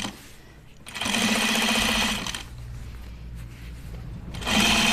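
Sewing machine stitching a jeans waistband in two loud bursts of rapid running stitches, separated by a quieter pause with low rumbling in between.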